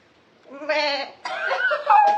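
A person's voice imitates a goat, giving a few wavering, nasal bleats in quick succession, close and loud, with no other sound around them.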